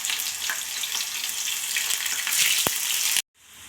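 Bitter gourd slices frying in heated oil in a pan, a steady close sizzle throughout, with a brief sharp knock near the end before the sound cuts to near silence.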